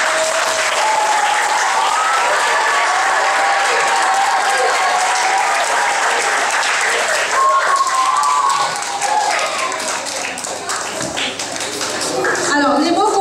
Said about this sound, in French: je demande à tout le monde de se lever et les applaudir